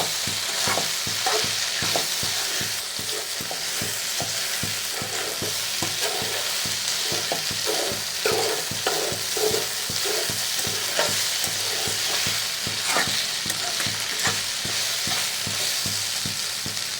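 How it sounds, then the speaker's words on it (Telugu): Brinjal curry (vankaya koora) fries over a high flame with ginger and garlic, a steady loud sizzle running throughout and broken by repeated scraping strokes of a spoon stirring the pan. "అల్లం వెల్లుల్లి ఫ్లేవర్తో బాగా వేగుతుంది"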